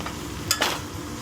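A spoon stirs crushed garlic, chili and salt into frying okra in a pan, a brief scrape and stir over a soft sizzle.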